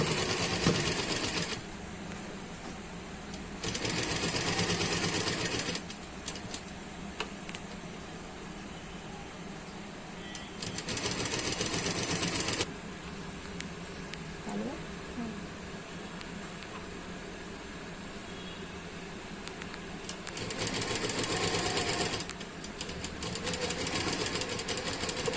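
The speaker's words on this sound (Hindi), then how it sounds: "मैं जब सिलाई करूँगी तो इसी निशान के ऊपर अपनी डोरी रखूँगी और गला पट्टी रख के सिलाई कर लूँगी" Electric sewing machine stitching a neckline facing and cord onto a suit, running in several steady whirring bursts of a few seconds each with quieter pauses between, close and fairly loud, no talking.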